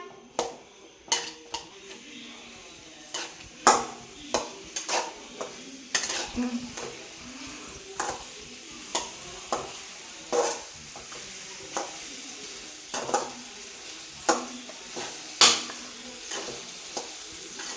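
Sliced banana with jaggery cooks in a pan, giving a soft sizzle under repeated clinks and scrapes of a spoon stirring against the metal, irregular and close, with faint talk now and then.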